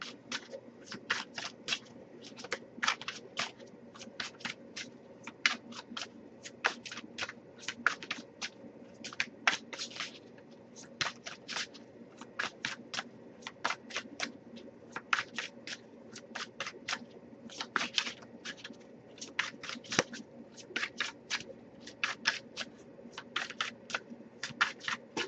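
An oracle card deck is shuffled by hand over and over, producing quick riffling bursts and soft flicks in an uneven rhythm, close and fairly quiet, steady for about 25 seconds with no talking.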